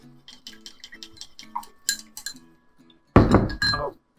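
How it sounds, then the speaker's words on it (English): Chopsticks beating eggs in a bowl for a Japanese omelette, giving a rapid run of light ceramic clinks and taps, then a louder burst of clattering stirring toward the end. "Chopsticks. Stir them up,"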